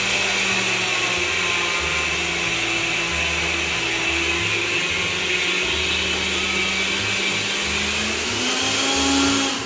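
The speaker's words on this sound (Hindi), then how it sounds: "अब इन तमाम तिलों को ब्लेंड कर लेते हैं।" A blender grinds roasted sesame seeds into tahini powder, a loud, steady whirring motor with a gritty rattle of seeds against the jar that runs continuously for the whole stretch with no talking.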